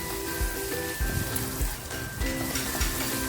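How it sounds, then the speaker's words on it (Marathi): Masala frying in oil in a pan for a pomfret curry, a steady close sizzle with occasional stirring scrapes, no talking. "मसाला आहे ना तेल बाजूला होईपर्यंत फ्राय करायचं आहे"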